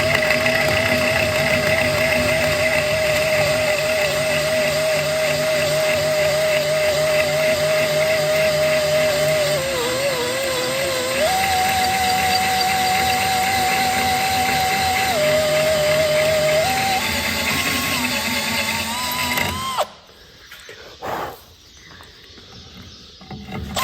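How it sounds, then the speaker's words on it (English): A hole saw with pilot drill cuts a 20 mm hole through thick metal on an HQ Holden catch can: a steady loud whining grind with pitch shifts as it bites, stopping abruptly near the end. "just going to grab out the trusty hole saw and we'll run a 20 mil hole through that"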